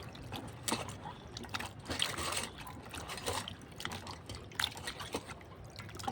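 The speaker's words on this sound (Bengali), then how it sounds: "ভেন্ডিটাকে আমি ভালো করে ধুয়ে নেবো, একেবারে কচলে ধুয়ে নেবো।" Okra is rubbed and rinsed by hand in a pan of water, giving soft splashes, drips and sloshing that come in repeated bursts at close range.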